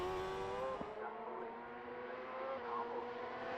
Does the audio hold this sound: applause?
no